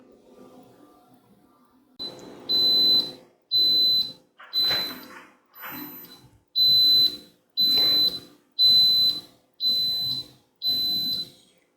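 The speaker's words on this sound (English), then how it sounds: "so it just beeped, telling me that my 2 minutes of being at high pressure is up" An Instant Pot pressure cooker beeps as its high-pressure cooking time ends. About ten loud, evenly spaced electronic beeps sound close by after a quiet stretch.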